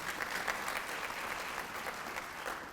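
Steady round of applause from a seated audience at a school hall of fame ceremony, dense clapping at even volume for a few seconds with no talk over it.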